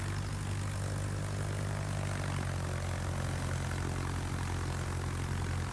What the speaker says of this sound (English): So here comes the rocket planes again.